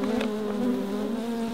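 Honey bees buzzing during a hive transfer into a Flow Hive, a dense steady hum of many insects close by, continuous and fairly loud with no break.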